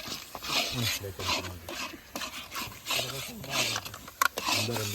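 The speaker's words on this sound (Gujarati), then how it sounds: "હવે આપડે અમૂલ નું ચોખ્ખું દહીં મિક્સ કરશું અંદર" Amul curd is stirred into a mashed eggplant mixture in a village-style Kathiyawadi kitchen, soft repeated scraping strokes beneath ongoing conversation.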